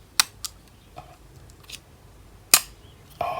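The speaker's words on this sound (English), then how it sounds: "Oh, it does a really good click." A Huawei GT2 watch charger snaps into place with a few sharp, crisp clicks. The clicks are close and spaced apart, and a couple are louder than the rest against a quiet background.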